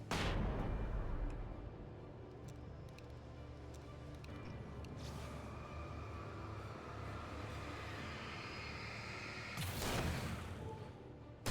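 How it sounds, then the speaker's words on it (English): A flash grenade thrown in the video game Alan Wake Remastered: a sharp loud burst opens, followed by a long rumbling roar and a second whooshing blast near the end. "Keep trying to throw flash grenade."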